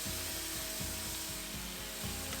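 Soy sauce and apple cider vinegar hit a hot pan holding garlic and ginger, giving a steady sizzle with a rhythmic scraping or stirring pulse repeating about every quarter second, fairly quiet and with no voices.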